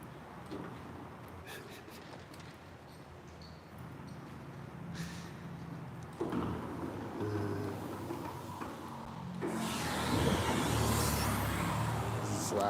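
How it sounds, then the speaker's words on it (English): A car drives past outside as a door opens, its engine and tyre noise swelling from a low rumble into a loud rushing wash near the end, with no voices. "There's a car driving by right when the door opens."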